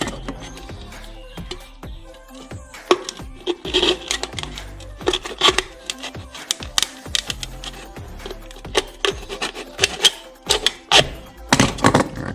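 Close, irregular crunching and scraping of a tool cutting all the way around a thin metal can, with sharp clicks and rasping bursts continuing throughout.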